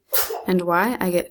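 A young girl sneezes once, sharp and close, in a quiet room, with an adult's voice talking immediately around it.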